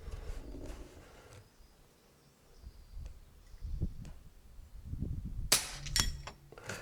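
Air rifle pellets strike a metal target plate at a shooting range. The scene is mostly quiet with low rumbles, and then several sharp, bright metallic pings ring out in quick succession near the end.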